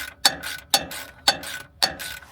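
A socket wrench ratchets in four even strokes while an oil filter on a 2008 Ford Explorer with a 4.0 V6 is tightened, each stroke a crisp, close burst of rapid clicks.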